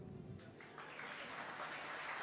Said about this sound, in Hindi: तो मैं चाहता हूँ जो भी कलाकार आएगा उसके लिए ज़ोरदार तालियां बजाना।